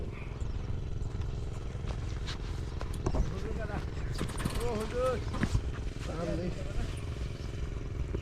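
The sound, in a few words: rowing boat being pulled across the river by rope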